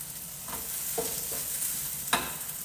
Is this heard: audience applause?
no